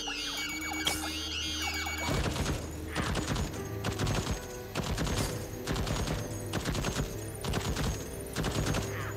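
Automated turret fire in the video game Deathloop, rapid bursts of repeated gunshots starting after a short lull and continuing loud and close with brief gaps between volleys, over a game soundscape.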